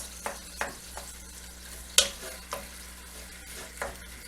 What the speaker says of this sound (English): We're browning our meat.